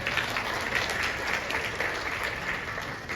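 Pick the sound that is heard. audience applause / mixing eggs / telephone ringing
audience applause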